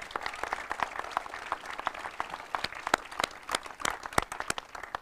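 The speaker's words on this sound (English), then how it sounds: "So a big round of applause to everybody involved." Audience applause at a childcare announcement in Manitoba, a fairly quiet, steady patter of many hands with sharper individual claps standing out, continuing throughout without voices.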